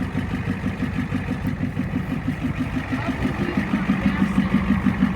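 A 1989 Ford F-350 dually with a 7.3 IDI diesel idles steadily nearby, a rapid, even low clatter that keeps a constant rhythm throughout after sitting unused for six years.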